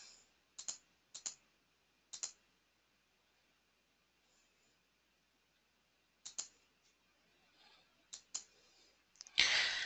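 A computer mouse clicks in quiet, sparse single and double clicks, spaced irregularly against a near-silent background, with a louder rustle at the very end.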